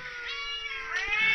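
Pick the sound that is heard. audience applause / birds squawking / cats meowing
cats meowing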